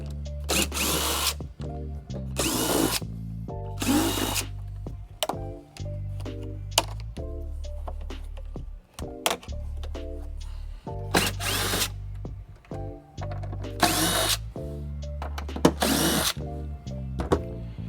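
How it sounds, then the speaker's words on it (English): A power driver removes T40 Torx bolts from cargo tie-downs in a vehicle storage system install. There are repeated loud whirring bursts, about eight of them, separated by short pauses and small clicks, close up and with no talking. "we'll go ahead and pop these covers up and expose the T40 Torx bolts, and we can take those out"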